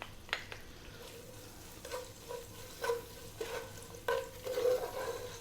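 Onion and garlic frying gently in a pan with salt and pepper for aromatic rice on a just-heated stove, a soft low sizzle with occasional stirring clicks and scrapes.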